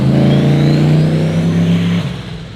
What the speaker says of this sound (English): Got a little car driving by right now.